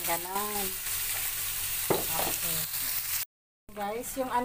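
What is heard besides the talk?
frying red and green capsicum with carrots and rice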